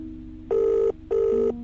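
An old-style telephone bell rings twice in two short, evenly spaced bursts over a quiet hum, left unanswered in a horror story setting.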